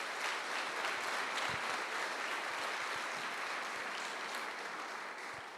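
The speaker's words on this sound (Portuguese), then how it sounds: "Receba as palmas da igreja" A church congregation applauds in a steady, dense wash of clapping that lasts throughout, loud and unbroken.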